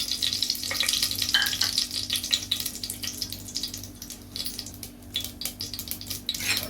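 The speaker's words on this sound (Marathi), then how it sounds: "मोहरे आणि हिंग घालते फोडणीसाठी" Mustard seeds and asafoetida tempering in two spoons of hot oil, a steady close sizzle with scattered crackles and a few clinks of utensils, with no talking.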